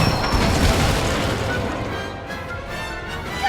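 An Incendio fire spell is cast in Hogwarts Legacy, a loud whooshing burst that swells and then slowly trails off.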